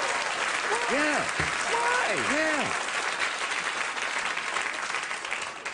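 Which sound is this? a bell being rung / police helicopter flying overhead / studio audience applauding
studio audience applauding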